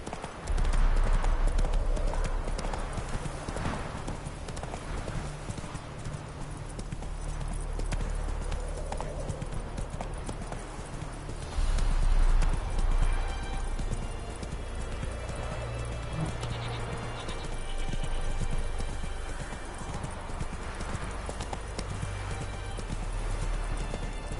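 The horse Roach gallops in The Witcher video game, steady hoofbeats clip-clopping throughout with occasional neighs and whinnies over game ambience, close and continuous with brief louder bursts.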